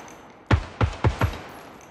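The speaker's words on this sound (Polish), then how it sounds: "No ktoś strzela" Four sharp gunshots ring out in the tactical shooter Ground Branch during a co-op mission, evenly spaced about a third of a second apart, loud and fairly close over a quiet low background.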